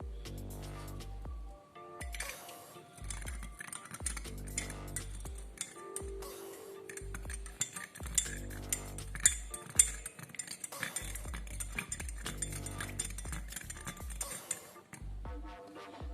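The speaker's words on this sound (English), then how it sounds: "Stir it until the sugar is evenly mixed." A metal spoon clinks steadily against a glass of tea while stirring in sugar, bright repeated ringing taps close up with no talking.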